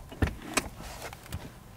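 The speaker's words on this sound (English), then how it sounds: "Push a button and the seat folds down." A truck's power-folding rear seat driven by an electric motor, with a couple of sharp mechanical clunks followed by a soft whirring motion, close by and with no voices.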